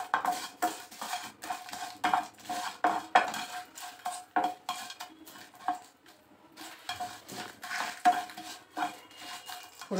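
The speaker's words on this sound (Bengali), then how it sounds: "ফোড়নটা একটু ভেজে নিচ্ছি।" Tempering spices frying in hot oil: cumin, mustard seeds, sesame, curry leaves and dried chilli. Rapid spitting crackles and spatters come in pulsing bursts, with metal utensils clinking against the pan and no voices.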